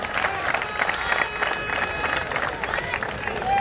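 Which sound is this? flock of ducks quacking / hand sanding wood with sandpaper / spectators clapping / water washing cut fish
spectators clapping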